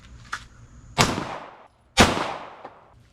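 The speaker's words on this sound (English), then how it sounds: "let's just go ahead and put some more shots in the dirt down there and run a full mag through this" Gunshots from a handgun with a green dot optic fired into the dirt while emptying a full magazine outdoors: two loud sharp reports about a second apart, each with a long decaying echo, plus fainter pops and no talk.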